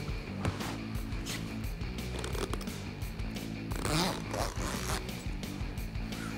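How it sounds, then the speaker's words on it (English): Zipper drawn along a Jeep Wrangler JK soft top side window as it is fitted into place, with rasping zips and handling rustles close by, some fabric shuffling and faint background noise. "Now they just zip into place."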